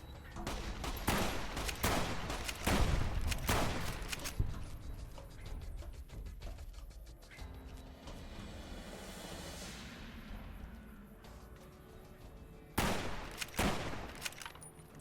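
Bursts of gunfire from the video game Fallout: New Vegas, several loud clusters of shots early on, then quieter mechanical ticking and ambience before another sharp burst near the end.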